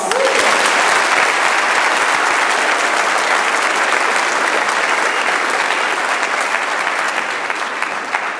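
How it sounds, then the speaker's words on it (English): A school and community audience at a Veteran's Day program applauds a student essay winner: dense, steady, loud clapping filling the hall for several seconds and easing slightly toward the end. "Let's give Aviana another round of applause."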